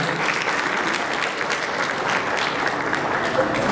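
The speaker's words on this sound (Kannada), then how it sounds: "ಈ ಸಂದರ್ಭದಲ್ಲಿ ಅವರಿಗೆ ನಾವೆಲ್ಲರೂ ಧನ್ಯವಾದಗಳನ್ನು ಚಪ್ಪಾಳೆಗಳ ಮೂಲಕ ಸಲ್ಲಿಸಲೇಬೇಕು." An audience at the Madagaja film event in Kannada cinema gives a dense, steady round of applause, loud and continuous, with a few voices mixed faintly into the clapping.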